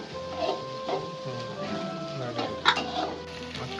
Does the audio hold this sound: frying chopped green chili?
yes